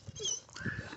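Dogs at the Hopkins County Humane Society shelter in Madisonville, Kentucky, giving short whimpers and yips in a kennel setting, moderately close and fairly quiet.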